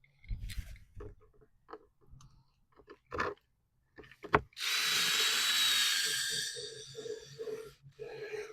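A power drill driving screws into a vinyl shutter, with a run of small handling knocks and taps, then a loud steady whirr of about a second and a half, followed by more light clicks and clatter close by.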